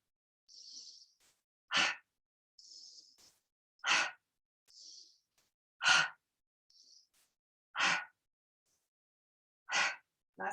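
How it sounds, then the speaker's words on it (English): Yoga breathing with a long inhale into the belly followed by a short exhale, repeated five times in a slow steady rhythm: soft hissing intakes alternate with brief, sharp, forceful puffs of breath, close and otherwise quiet. "Breathe in nice and long into the belly and short exhale."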